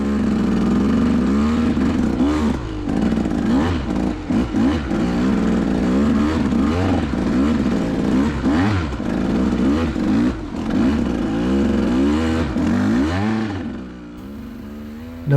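A motorcycle rides through very wet snow and slush. The engine drones and rises and falls as the rider revs and shifts, with clattering and road noise, loud and close throughout, easing off near the end.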